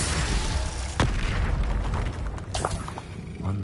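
Confringo fire spell exploding during combat in Hogwarts Legacy, a loud booming blast followed by crackling bursts and impacts over dense game noise, with no talk.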